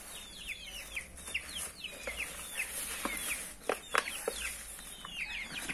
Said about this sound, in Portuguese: eu vou mostrar minhas galinhas, os pintinhos, vou colocar a ração para eles.